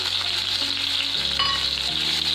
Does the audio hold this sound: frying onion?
yes